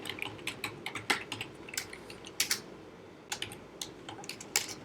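Keys clatter on a computer keyboard in an irregular typing rhythm, close and moderately quiet, with a brief burst of louder keystrokes partway through and no talking.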